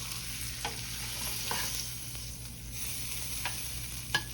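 Bone-in chuck steaks fry in a pan with a steady loud sizzle, broken by a few soft scrapes and knocks as pieces are moved, heard close.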